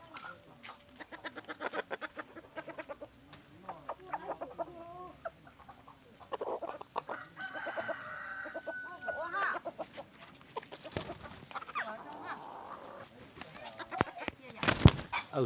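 Chickens cluck near and far across a farmyard, scattered bursts rising and falling while people talk over them throughout.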